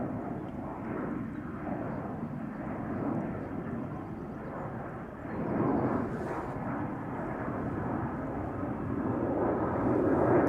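A jet airliner departs from a runway at Schiphol Airport, a steady broad engine roar heard from a distance that swells slightly toward the end, with no talk over it.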